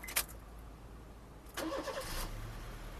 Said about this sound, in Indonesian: Habis itu kita nyalain mesinnya.